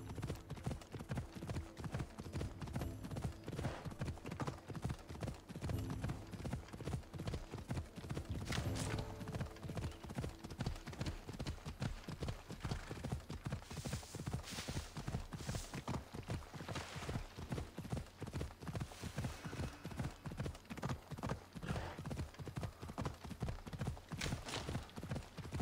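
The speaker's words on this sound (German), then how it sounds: "Ich hole wieder das Pferd aus der Tasche." Hooves clip-clop in a fast, steady rhythm as a horse gallops continuously for a long stretch in the video game Assassin's Creed Odyssey, with an occasional whinny.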